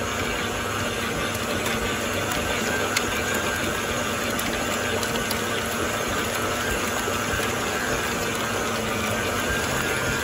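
A stand mixer kneads bread dough at speed five, giving a continuous steady motor whir with a faint rhythmic ticking, unbroken for the whole stretch.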